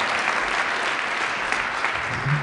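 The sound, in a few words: audience applause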